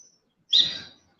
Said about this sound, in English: I'm trying to make sure these birds don't get me.